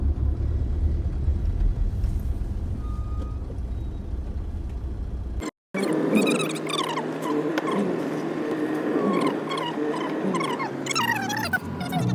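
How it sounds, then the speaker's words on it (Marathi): Road traffic in a jam makes a constant low rumble of engines. After a brief cut, the scene turns busier with horns, beeps and rising vehicle noise, and no clear talk is heard. "इकडे बघा किती ट्रॅफिक आहे बघा फुल"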